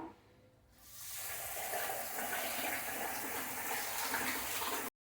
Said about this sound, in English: So I will be washing this rice now.